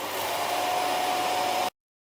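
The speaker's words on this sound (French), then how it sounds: "l'aspirateur que vous avez ici va venir ramasser tout ce qui se trouve à l'intérieur du bac à poussière du robot" Ecovacs Deebot T8+ docking station vacuuming dust out of the robot's bin, a steady loud whooshing suction roar that cuts off abruptly.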